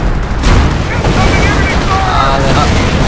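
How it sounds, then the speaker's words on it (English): An artillery barrage exploding in the World War II strategy game Company of Heroes, a loud, continuous roar of booming impacts and rumbling blasts with faint battle chatter mixed in beneath. "Oh, and here comes in some artillery."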